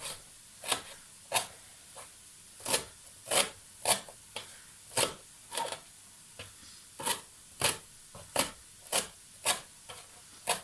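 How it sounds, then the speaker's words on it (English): A knife chops through beef mince ingredients on a cutting board, a steady series of crisp, fairly faint strokes with a rasping scrape, repeating about twice a second without talk. "Hear me chopping away here."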